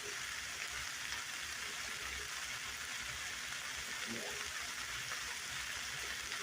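A stir fry with barbecue chicken tenders cooks in a pan, giving a quiet, steady sizzle and crackle that runs evenly the whole time, faint and without clear talk.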